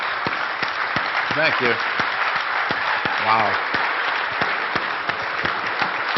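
A standing ovation for a poker player, dense steady clapping from a crowd filling the whole stretch, with someone briefly speaking his thanks over it.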